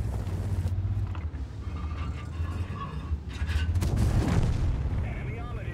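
Tank cannon fire in World of Tanks, a heavy boom over a constant low rumble of engine and battle noise, with someone talking over it.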